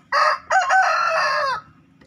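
A young fighting rooster crows loud and close in its box coop, two bursts of a rising cock-a-doodle-doo call with a short break between them.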